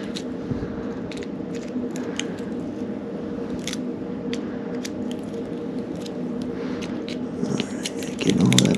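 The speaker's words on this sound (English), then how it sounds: "Getting all that old cable out of there." Needle-nose pliers tug old BOA cable from a DC Control snowboard boot, giving a series of small close clicks, snips and scraping pulls over a low background hum, busier at the end.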